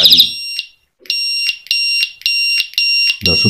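A rechargeable bicycle siren sounds loudly and close, switching between shrill electronic tones. Repeated pulsing bursts are broken by a short pause, and a brief low rustle of handling is heard near the end.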